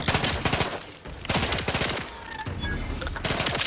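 Gunfire in The Outer Worlds 2, rapid automatic bursts rattling loudly in several separate volleys with short pauses between them, close and dominant throughout.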